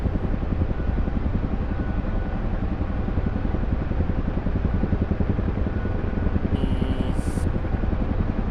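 A video game helicopter in DCS in steady forward flight: loud, continuous rotor thumping over a droning engine, close and unbroken, with a brief high electronic beep near the end.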